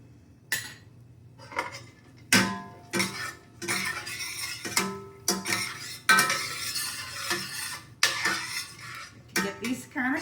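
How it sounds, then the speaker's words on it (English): A pan of sliced garlic and pine nuts cooks on the stove while a utensil stirs and scrapes it, giving irregular clattering bursts with a faint sizzle under them. "I'm going to put in the rest of this sliced garlic. 3 heaping tablespoons of pine nuts."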